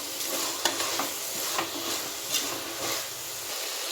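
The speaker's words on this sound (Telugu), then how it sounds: "ఇప్పుడైతే నేను కొత్తిమీర పుదీనా వేసుకొని మొత్తం ఫ్రై చేసుకున్నాను" Coriander and mint fry in a pan for biryani, a soft steady sizzle close by with a few light scrapes as the greens are stirred.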